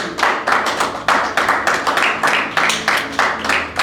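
A church congregation claps in a fast, steady rhythm during a worship service, with loud, even hand-claps repeating about twice per second throughout and no clear talking.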